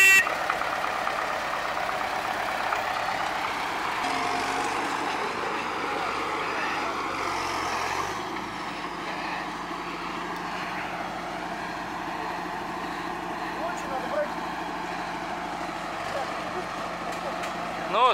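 Tractors stuck and spinning in mud, a steady engine drone with shifting revs throughout, heard under people talking.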